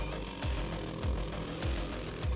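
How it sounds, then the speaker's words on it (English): A power drill with a small bit whines steadily while boring a pilot hole through a truck's metal floor, with a rhythmic grinding thump repeating roughly every half second, close and loud. "just drill through the floor with a small bit for a pilot hole"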